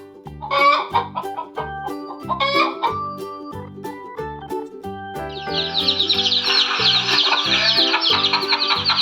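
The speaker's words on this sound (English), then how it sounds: "hen," Hen clucking in a series of short, bright calls over a looping children's music bed, followed by a longer busy stretch of squawking and clucking in the second half.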